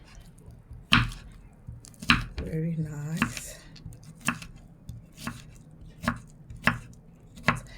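A knife chops through cactus leaves on a board to make skin gel, with sharp, evenly spaced cuts landing roughly once a second, close and distinct, and a brief spoken remark in between.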